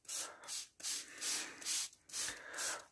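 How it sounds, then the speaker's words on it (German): Pest spray for coffee-plant lice misted onto exotic houseplants being overwintered, heard as five or six close hissing bursts from a pump spray bottle, each under a second long and separated by brief pauses. "Und jetzt kann man schon sprühen."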